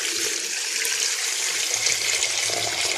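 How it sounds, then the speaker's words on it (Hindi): Water pours steadily into a cooking pot while yakhni broth for beef pulao is being prepared, a continuous rushing, splashing stream running close and fairly loud for the whole stretch with no talk. "उसके बाद मैं इसमें डाल दूंगी पानी।"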